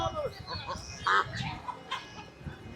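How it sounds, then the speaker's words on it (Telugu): Country chickens at a Sunday market in Erragadda, Hyderabad, cluck amid busy market bustle, with one sharp, louder squawk standing out in the middle and faint chatter around. "నాటుకోళ్ళు చాలా బాగున్నాయి, రకరకాలు అనమాట"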